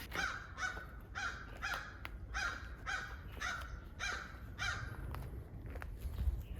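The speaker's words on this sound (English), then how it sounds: "Eagle." An eagle overhead near an old International pickup calls in a series of about eight harsh, evenly spaced cries, distant and faint over quiet outdoor ambience.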